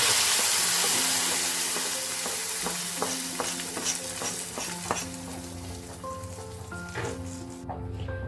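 Hot chilli and curry-leaf tempering is poured into a prawn and yam curry, setting off a burst of sizzling that fades as a spoon stirs. A few soft pops and clinks follow, and nobody speaks.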